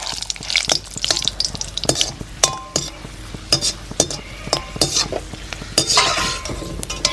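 Cashew nuts fry in a few spoonfuls of hot sunflower oil in a pan, with soft sizzling under repeated sharp clinks and scrapes of a spoon stirring against the metal.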